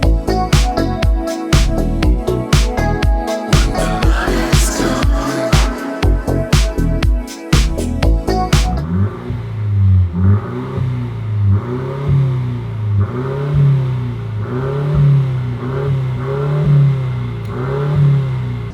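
A Mercedes C300 engine with a custom catback exhaust, loud and close: about nine seconds of rapid, aggressive revving with sharp throttle blips, then a deeper steady drone with a rhythmic pulsing rumble, no talk.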